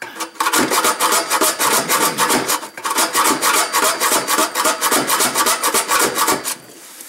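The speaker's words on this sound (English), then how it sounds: "I'm gonna use this hacksaw to finish cutting it." A hacksaw cuts through the muffler pipe of an R50 Mini Cooper during a DIY muffler delete, a loud, rapid and steady back-and-forth rasp of the blade on metal that continues with only a brief pause.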